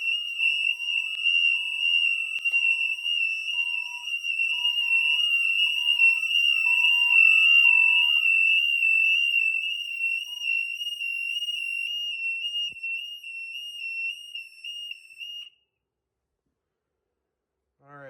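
Fire alarms set off for a New Year's test, producing a steady, piercing electronic tone with a faint pulsing lower beep beneath it, continuing for about fifteen seconds before stopping.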